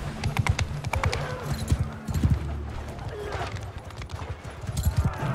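Rhythmic clip-clop of horse hooves in the video game Mount & Blade II: Bannerlord, uneven and fairly close, with occasional thuds and no talking.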